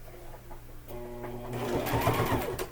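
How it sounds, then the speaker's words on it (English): A sewing machine runs a bulky half-inch seam on a fabric casserole carrier. It makes a quiet, steady mechanical whirr with rhythmic stitching ticks that grows a little louder as the clip goes on. "we're gonna sew 1/2 inch all the way around, leaving our opening down here on this end"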